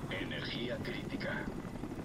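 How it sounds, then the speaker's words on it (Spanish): Helicopter in the video game Crysis, a steady low rotor drone running continuously beneath game sounds and faint tonal effects, fairly quiet and distant, with a voice speaking over parts of it. "Y escucho un helicóptero."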